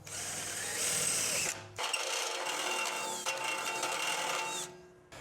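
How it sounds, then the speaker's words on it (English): Power drill boring a pilot hole at a slight angle before countersinking, with a whirring burst, a brief pause, then a longer steady whine that ends with a sharp click. "First off, we'll drill a pilot hole."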